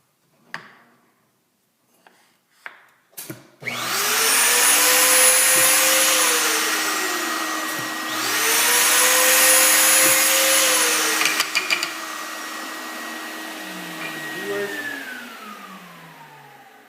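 A router cutting a dovetail key slot in wooden frame moulding starts after a few clicks, then whines loudly and steadily for about twelve seconds with pitch shifts as it loads into the cut, before winding down; no talk.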